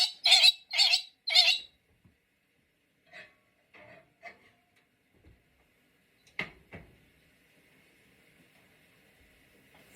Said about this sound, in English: You see the birds?